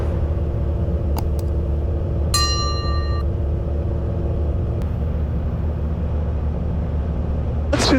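A sleek gyroplane fitted with a hotrod engine roars in a steady, dense, heavy drone throughout, loud and constant, with a few faint short beeps and clicks over it.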